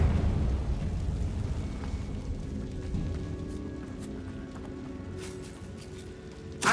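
Confringo fire blast spell in Hogwarts Legacy: a low rumbling, crackling burst that decays gradually over several seconds, with a sharp crack near the end.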